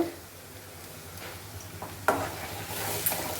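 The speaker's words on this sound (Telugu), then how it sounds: "ఇప్పుడు ఒక టమాటాని ప్యూరీ లాగా చేసుకున్నాను, దాన్ని వేసేస్తాను." Tomato puree hits onions frying in hot oil, setting off a soft, steady sizzle with a few spoon stirs and pan clinks, close and fairly quiet.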